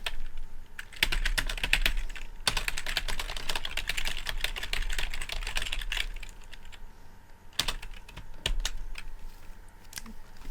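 Rapid, continuous typing of JavaScript code on a computer keyboard, close and clear, with dense key clacks, brief pauses and a couple of heavier keystrokes, no voices.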